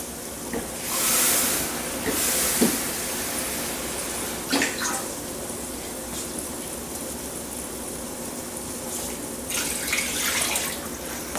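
Tap water runs steadily into a measuring cup while making Spanish fried quinoa, topping up leftover vegetable broth to one cup; a continuous close hiss with a few brief louder splashes, no talking.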